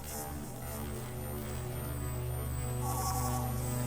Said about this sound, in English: data scan and distorted hum.